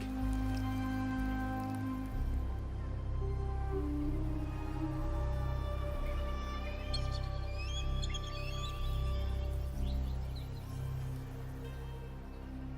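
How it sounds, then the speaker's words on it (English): Soft rain patters in the video game Wuthering Waves beneath sustained ambient music tones, with a few faint bird chirps, and no speech. "The rain is passing. I hear it ceasing its symphony upon the earth."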